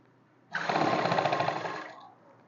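A sewing machine runs in one quick burst of about a second and a half while stitching a kurti. It has a fast, even needle rhythm, sounds close, and then stops.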